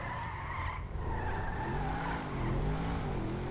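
Car engine in GTA 5 on Xbox One, one of the game's largest engines, revving and climbing in pitch with a steady drone and a brief dip near the start, loud and close with no talk.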